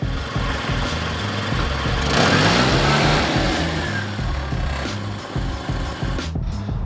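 A classic Mini's engine runs steadily close by, a busy mid-pitched mechanical drone that swells a little midway and holds throughout without speech.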